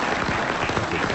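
Studio audience applause fills the whole moment, a dense, steady wash of many hands clapping at close range with no voices breaking through.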